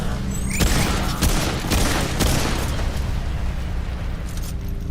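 Gunfire and booms from the video game Remnant II fill the scene with dense, rapid bursts of weapon fire and heavy impacts over a continuous low rumble, loud and sustained throughout.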